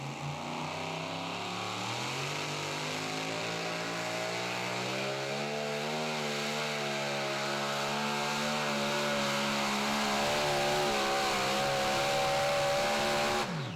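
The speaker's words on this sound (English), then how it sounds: "you could hear there, Leslie, he waited a while to go to that full throttle mark" Super modified two-wheel-drive pulling truck at a tractor pull, engine held at full throttle in a loud, sustained roar whose pitch climbs and wavers steadily over the whole stretch, with no talk.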